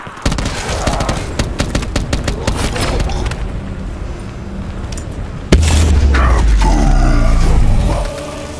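Automatic gunfire and explosions from a Call of Duty Black Ops 4 Zombies match, rapid bursts of shots rattling throughout, then a heavy deep boom with rumbling blasts in the second half, loud and close.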